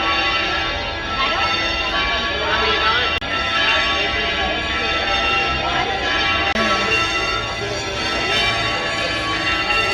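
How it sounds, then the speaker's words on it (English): Church bells ring continuously in Alicante, Spain, in a dense, reverberant wash of overlapping tones, fairly loud, with some background voices mixed in. "Bells are ringing."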